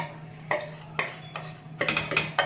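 Bombay chutney for idli stirred in a pan, a spoon clinking and scraping against the metal in quick strokes that bunch together near the end, close with a low steady hum underneath.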